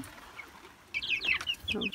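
Chickens in a brooder cluck softly, faint at first and then a close run of busy, overlapping clucks and chirps in the second half.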